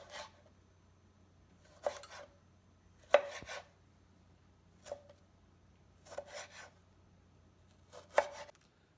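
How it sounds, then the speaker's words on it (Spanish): Knife chopping through a tomato on a cutting board in six separate bursts of quick cuts, spaced apart, with a low steady hum underneath. "Corta el tomate."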